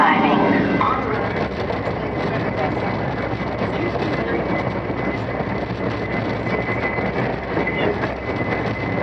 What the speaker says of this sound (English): Via train number 40 from Toronto, Guildford, Oshawa, Coburg, Belleville, and Kingston is now arriving en route.